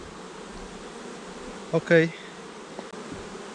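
Honey bees hum at an opened hive during frame work, a faint steady buzz with one brief louder buzz passing close midway, and a single short word spoken.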